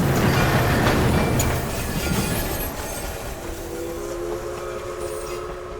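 Train rolling along the rails in a loud, steady rumbling wash with a faint squeal of wheels, fading a little toward the end.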